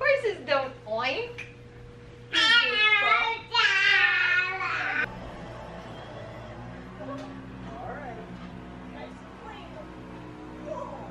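A person's voice imitates a horse's neigh during a children's Old MacDonald farm song, with sung and spoken lines before and after the neighing bursts and softer talk continuing underneath.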